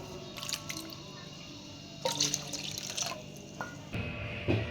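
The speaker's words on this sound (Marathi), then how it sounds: "दोन वाट्या पाणी टाकून घ्यायचं आहे" Water runs and splashes in short bursts into a pressure cooker holding moong dal, with a few drips and small clinks between pours, close by and fairly soft.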